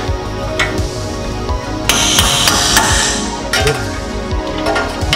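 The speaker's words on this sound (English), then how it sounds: "with the hammer. And that takes the spline out, which will then let you remove the bolt." A hammer strikes a bolt to drive out the spline while installing coilovers on a 2005–2014 S197 Ford Mustang, with repeated sharp metallic blows at an uneven rhythm, close and loud.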